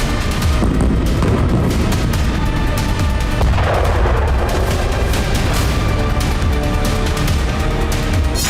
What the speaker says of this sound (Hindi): गाजा शहर में इजरायल सेना का भीषण बारूद बरस रहा है